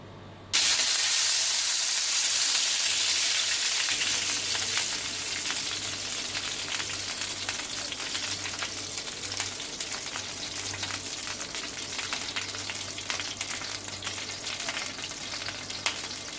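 Spices sizzling loudly in hot palm oil, a sudden burst of hissing and crackling as they hit the pan, then a steady, dense fry that carries on alone.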